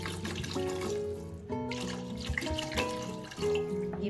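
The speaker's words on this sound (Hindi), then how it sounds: "अब हम इसमें डालेंगे पानी।" Water from a tap poured into a cooking pot for matar pulao with green chillies, a steady continuous splashing flow lasting throughout, close and fairly loud with no talk.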